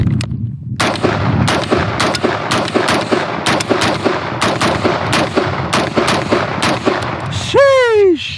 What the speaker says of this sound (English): we gotta make sure this thing works. We gotta make sure it's fully functional, of course, and it's just fun to shoot.